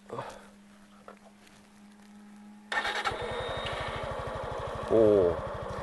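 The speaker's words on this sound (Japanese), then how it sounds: "エンジンかけてみましょう。" A Suzuki Gixxer 150SF's air-cooled, fuel-injected 150cc single-cylinder engine cranks after a quiet stretch, then catches and settles into a steady, close, pulsing idle with a brief rev near the end.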